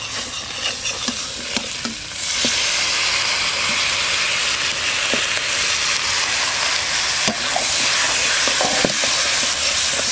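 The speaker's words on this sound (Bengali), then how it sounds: "এখন কেটে রাখা মাংসগুলো দিয়ে দেবো।" Cut duck meat dropped into a hot kadai with tomatoes, bursting into a loud, sustained sizzle and hiss that stays steady for several seconds, with scraping stirring sounds underneath and no speech.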